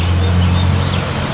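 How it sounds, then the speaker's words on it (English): A loud truck passes close by a back porch, a heavy low engine rumble that fills the whole moment steadily with no voices over it. "Sorry for the traffic. I'm on the back porch and that truck's really loud."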